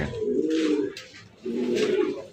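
Two soft, throaty pigeon coos, close by at a pigeon sale, each a low rolling call with a brief pause between them.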